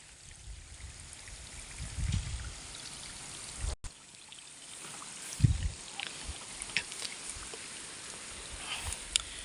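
Soft, steady trickling water runs through a vegetable garden irrigation channel throughout, quiet and close, with a couple of brief low thumps and a short dropout partway through.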